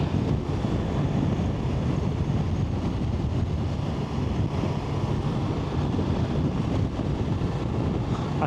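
Strong wind roars over the microphone while riding a Ducati Multistrada V4 Rally along a windy coastal road in Halland, a loud, constant low rumble with rapid buffeting and no pause.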